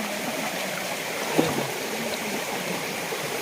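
A small village stream near a grandmother's house, running full with plenty of water, gives a steady, close rushing and gurgling flow that continues evenly throughout without any voices.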